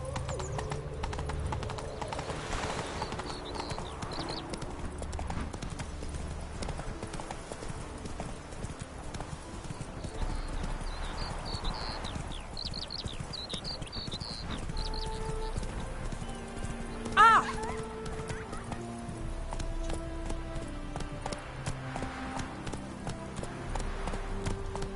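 Roach the horse trots in The Witcher 3, its hooves beating a steady clip-clop throughout, with a whinny partway through and game ambience underneath.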